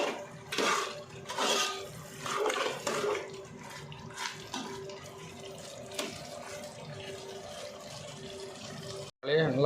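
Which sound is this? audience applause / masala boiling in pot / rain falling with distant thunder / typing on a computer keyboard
masala boiling in pot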